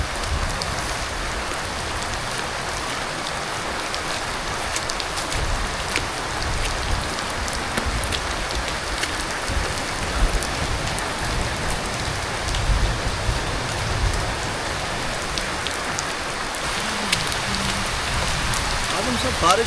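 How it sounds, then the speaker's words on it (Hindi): Steady light drizzle patters across surfaces in a quiet hillside spot near Murree, a continuous dense hiss of fine drops that stays even and close throughout, with no voices. "और रिमझिम बरस रही है"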